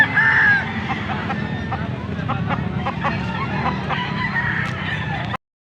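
A rooster crows loudly and briefly at the start, followed by a busy background of other fowl, clucking, and murmuring voices at a gamefowl sale in Angeles City, Pampanga.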